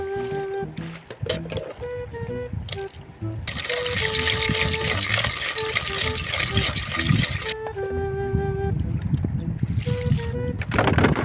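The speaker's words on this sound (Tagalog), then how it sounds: "Ako muna iigib ng tubig para meron akong pangsaing doon sa treehouse" Water is drawn from a well in rural Mindoro, sloshing and pouring in a continuous splashing stretch up close, with music playing throughout.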